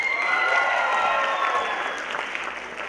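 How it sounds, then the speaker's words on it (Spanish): Loud, sustained applause from a seated audience at a student innovation presentation at a university campus, dense clapping that holds steady for a few seconds before thinning slightly. "así que un fuerte aplauso para ellos."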